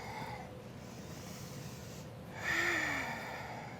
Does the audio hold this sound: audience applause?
no